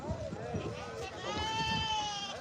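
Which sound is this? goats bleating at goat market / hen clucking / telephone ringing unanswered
goats bleating at goat market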